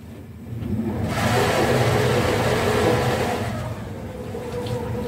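A narrowboat's electric drive propelling it in reverse on a river, a steady mid-range motor whir and water churn that swells after the first second and holds, fairly close and loud, with no talk.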